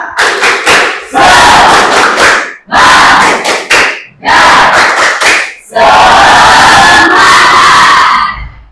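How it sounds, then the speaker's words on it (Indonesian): A school class in Indonesia does a rhythmic spirit clap, with loud bursts of many hands clapping together in patterned beats mixed with group shouting, separated by brief pauses. "Tepuk semangat."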